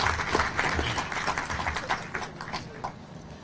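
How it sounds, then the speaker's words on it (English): Audience applause at an outdoor statue unveiling honoring a mayor, a steady wash of clapping hands that gradually thins and fades toward the end. "Let's just give them a round of applause."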